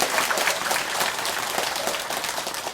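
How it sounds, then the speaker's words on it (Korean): An audience at a Buddhist dharma talk applauds steadily, dense clapping holding at an even level throughout with no voices over it. "박수 쳐시오"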